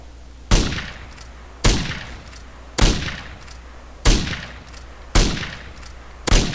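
Single gunshots fired one at a time in the zombie survival game MTA DayZ, five or six sharp loud cracks spaced about a second apart, each trailing off into a short echo, with no talk over them.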